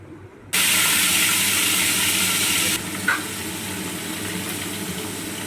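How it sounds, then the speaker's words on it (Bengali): Moya fish, rubbed with salt and turmeric, dropped into hot mustard oil: a loud sizzle bursts in suddenly, stays strong and close for a couple of seconds, then settles to a softer steady frying hiss. "এই গরম তেলের মধ্যে এখন মাছগুলোকে আস্তে আস্তে ভেজে নেব"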